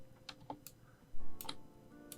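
Several quiet mouse clicks spaced irregularly while selecting in Photoshop, with light keyboard-like ticks and low background hum, no speech.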